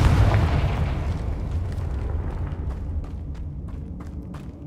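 A deep boom from a Confringo fire spell in Hogwarts Legacy erupts loudly at the start, then rumbles and fades over several seconds with faint crackles.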